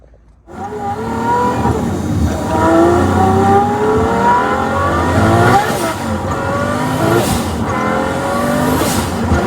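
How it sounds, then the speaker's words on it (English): A V12 twin-turbo Supra with all-wheel drive cold-starts after a dyno session, the engine catching and then revving repeatedly in loud, close, rising and falling sweeps with a raspy exhaust note. "Post dyno. Cold start."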